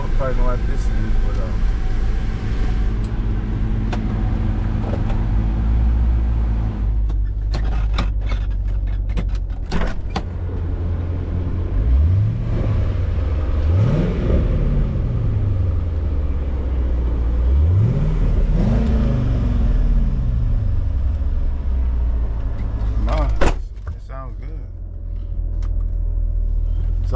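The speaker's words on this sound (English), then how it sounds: "Let me pull over here real quick, or we can hear this damn engine." A Corvette engine idles with a low steady rumble and is revved several times in rising, falling sweeps while parked in a parking lot, as someone talks over it.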